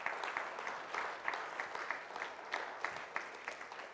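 A church congregation applauds, a soft, distant patter of many hands clapping in an uneven rhythm that continues throughout without any talking.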